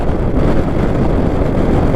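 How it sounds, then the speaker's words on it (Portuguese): Strong wind roars past the microphone while someone rides a Honda NC 750X motorcycle, a loud, continuous buffeting rush with the engine lost beneath it. "Hoje está muito vento, pessoal,"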